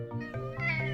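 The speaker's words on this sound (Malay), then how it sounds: "Meow." A cartoon cat in the Bing series gives a single clear, close meow with a rising then falling pitch, heard alone.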